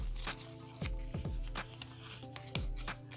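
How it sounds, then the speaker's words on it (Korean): Paper being creased and folded back and forth while making an origami ribbon box, with several sharp crinkling rustles and swishes in close, quiet surroundings and no talking. "이렇게 한번 균등하게 앞뒤로 한번 접어 볼게요"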